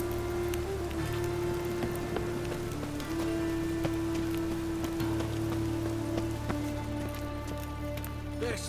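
Steady rain falls in The Witcher video game, a continuous close patter of drops on surfaces with soft tonal ambience beneath and no talking.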